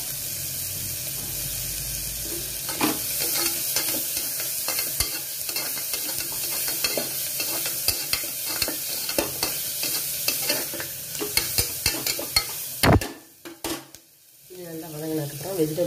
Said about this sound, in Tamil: அதுக்கப்புறம் வந்து வெங்காயத்தை போட்டு நல்லா வதக்கிக்கேன்.